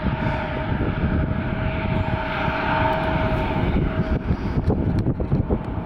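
A jet airliner taking off at Atlanta airport, a loud sustained engine roar with broadband rumble and a steady tone, heard near and continuous with some wind buffeting.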